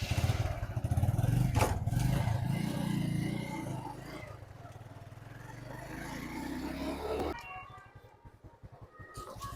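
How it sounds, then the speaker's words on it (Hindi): A TVS motorcycle with a spark plug problem idles and runs on a test ride, a loud steady engine drone with a lighter meow-like whine, which shifts abruptly into a choppy, pulsing putter near the end. "चलिए एक बार बाइक को हम टेस्ट लेकर देखते हैं।"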